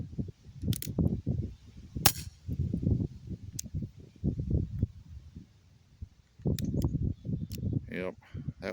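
Colt Peacemaker BB pistol fired in a few sharp, separate cracks spread across the stretch, with someone talking steadily in between and over them.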